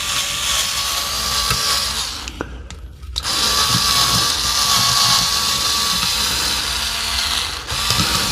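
A small cordless screwdriver whirs continuously with a grinding, rattling scrub while cleaning DeWalt laser battery contacts, pausing briefly once before running on, close by.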